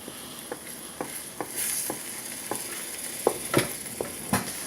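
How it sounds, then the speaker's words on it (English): An egg frying in a pan over an open fire outdoors, with a steady close sizzle and occasional sharp taps and scrapes of a utensil against the pan at an irregular pace. "Let the egg cook."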